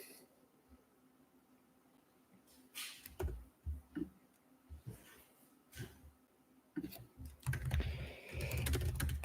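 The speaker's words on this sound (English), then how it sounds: "Just start typing already." Bursts of clicking computer keys at close range, irregular clusters of taps separated by short pauses, growing denser toward the end over a faint room hum.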